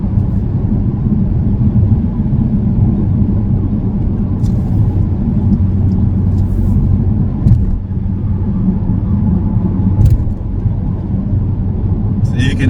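A 2013 Dodge Challenger SRT8 392 with a Solo Performance Mach X3 cat-back exhaust cruises along, its deep low rumble steady and continuous from inside the cabin, with no talking over it.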